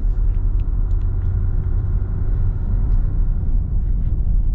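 A Ram truck with an EcoDiesel engine and 3.92 axle ratio drives along, heard from the cabin as a loud, steady, deep rumble that stays even throughout, with no talk.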